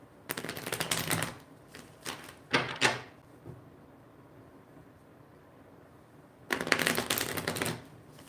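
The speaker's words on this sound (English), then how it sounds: "Shuffle these back in." Tarot cards shuffled in several quick riffling bursts, separated by a long quiet stretch before a final longer shuffle, close and crisp.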